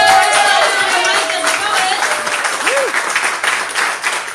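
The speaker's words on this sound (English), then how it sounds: "we should definitely clap and cheer again for Ariana." An open mic audience claps and cheers in a sustained wash of applause, with a voice rising through it near the start and crowd noise continuing throughout.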